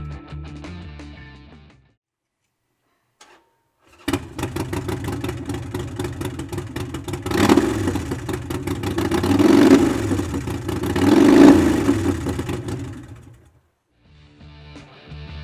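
A 2008 Harley-Davidson Sportster 1200 Custom 105th Anniversary motorcycle engine idles close and loud, cuts out briefly, then restarts and runs with a steady rumble, swelling with two revs before settling back to idle.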